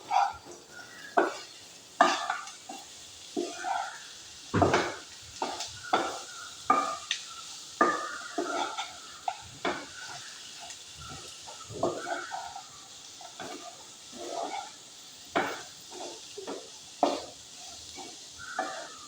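A masala mixture with salt and coriander leaves is stirred and fried in a pan, giving repeated scraping strokes over a steady soft sizzle, close by and with no talking.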